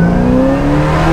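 A supercharged 750 hp LSA V8 in a 1970 Camaro restomod pulls hard under acceleration, a loud, steady engine roar with rising harmonic pitch across the short span, no talking.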